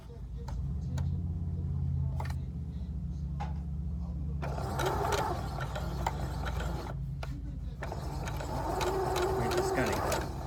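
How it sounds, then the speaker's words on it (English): A sewing machine chain-sews quilt pieces for a quilt top, whirring steadily with mechanical clatter in nearby bursts and a brief pause in between, while someone talks alongside. "We're going to lay them together, and we're just going to chain sew them."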